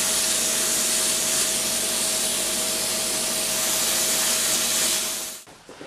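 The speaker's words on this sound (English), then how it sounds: "Spray some antiseptic first." A steady, close hiss of an antiseptic aerosol spray on a foot runs without a break for about five seconds, then cuts off suddenly.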